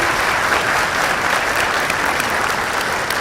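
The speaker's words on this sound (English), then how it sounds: "A big round of applause for these 4 friends." A large audience applauds steadily at a white coat ceremony in Rozanski Hall, a dense, even wash of clapping with no break and no speech.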